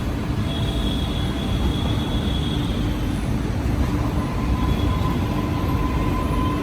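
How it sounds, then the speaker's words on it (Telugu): A Chennai metro train runs past in a steady, loud rolling rumble that holds for several seconds, with faint high squeals from the wheels over the continuous noise and no talking. "సో చూడండి మెట్రో ట్రైన్ వెళ్తుంది"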